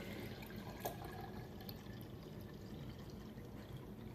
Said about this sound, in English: now we're adding 4 cups of water.